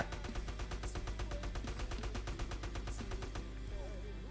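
Rapid automatic gunfire in GTA San Andreas played online on mobile, a steady run of sharp, evenly spaced shots that rattles on for several seconds at close range before ending abruptly.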